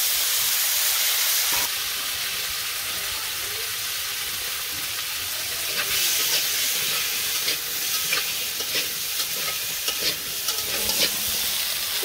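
Potatoes frying with cumin and radhuni in a hot pan for a Bengali fish curry: a loud, continuous sizzle with hissing steam, with stirring scrapes and crackles that intensify partway through.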